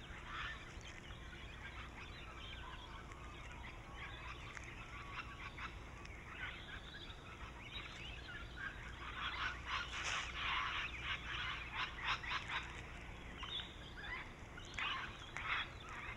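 Cockatoos, parakeets, rosellas and lorikeets feed on gum nuts and berries in the Australian bush, a dense chorus of overlapping harsh squawks and chattering calls, fairly faint and continuous, growing busier midway.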